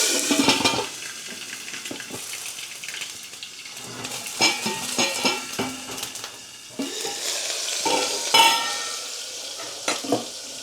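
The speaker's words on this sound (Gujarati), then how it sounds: "અને હવે નાખવાનું છે લીલા મરચાં અને ટમેટાં અને જલ્દીથી ઢાંકી દેવાનું છે કેમ કે તેલ બહુ ગરમ." Green chillies and tomatoes hit very hot oil in a pan, giving a bright crackling sizzle with scattered sharp pops and clinks of a spoon against the pan, fairly close, with no talking.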